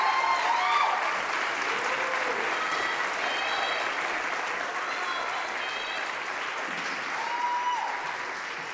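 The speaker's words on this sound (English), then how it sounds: "let's give a round of applause as we welcome" An audience applauds steadily, a dense wash of clapping that stays loud throughout with a few faint voices mixed in.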